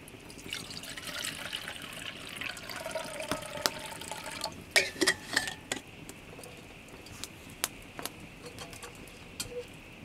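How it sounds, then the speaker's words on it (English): Water poured into a pot to boil for cooking at a cave campsite in the Australian wilderness, a soft trickling pour mixed with clinks and knocks of metal cookware, close and moderately quiet, with no speech. "All right, we'll boil up some water."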